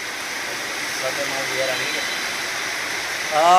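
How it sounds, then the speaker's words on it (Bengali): Heavy rain falls outside as a steady, even wash of hiss that runs the whole time, with faint voices murmuring low beneath it. "বাইরে হলো প্রচুর বৃষ্টি"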